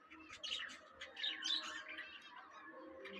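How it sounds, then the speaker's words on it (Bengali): Pigeons and other small birds at a bustling animal market chirp and tweet in quick, faint bursts, with a low murmur of the surroundings underneath. "এখানে আছে কবুতর বিভিন্ন মিউটেশনের কবুতর বিভিন্ন দামের কবুতর"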